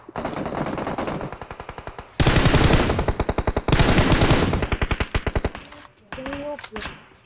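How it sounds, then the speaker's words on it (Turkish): Rapid bursts of automatic gunfire in the mobile game PUBG Mobile, loud and close, with long sustained strings of shots, short pauses between volleys and a final short burst, with no talk. "Başkası vuruyor herhalde onu."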